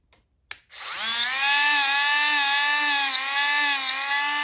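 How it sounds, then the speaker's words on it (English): A small Dremel rotary tool whirs up to speed after a brief click and then holds a steady high-pitched whine as it cleans an old metal surface, close and continuous. "take my little Dremel and clean this surface off"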